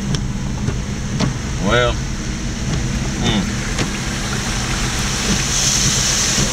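A car drives slowly through deep water on a flooded road, with a steady wash of water and engine rumble throughout and a person speaking briefly over it.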